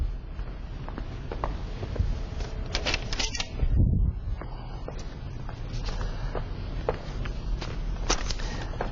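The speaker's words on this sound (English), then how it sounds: "Oh. I better take away the paper." Paper is handled and gathered up at a lectern before a talk, with soft steady rustling and small taps, then a brief louder crumple near the middle.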